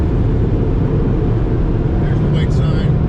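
A car wash vacuum cleaner runs loudly with a steady, jet-like roar, a constant broadband rush that holds at full strength throughout.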